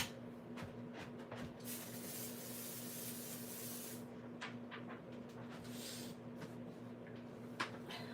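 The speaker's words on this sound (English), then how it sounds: "let's go ahead and use our pixie spray, and I'm going to spray the back of this layered glowing candles" Pixie spray adhesive misted onto the back of a layered glowing-candles card panel in a hallway, heard as several close, breathy aerosol hisses in short bursts separated by brief pauses.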